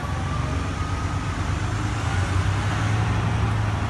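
A truck's diesel engine revs steadily to build air brake pressure during a driving-school pre-trip inspection, a loud, continuous low rumble with a constant broadband roar and no pauses.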